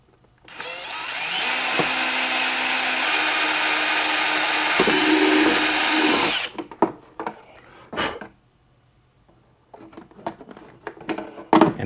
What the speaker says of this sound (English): I'm going to start my pilot hole with a small drill bit.